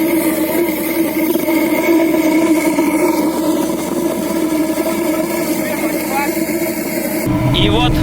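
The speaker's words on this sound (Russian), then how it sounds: "И вот наш мотоцикл уже топится, грохочет на всю улицу, набирает, так сказать, температуру." A homemade steam-powered motorcycle runs and rumbles loudly in the street, giving off a steady droning mechanical hum with tonal whine. A person speaks over it.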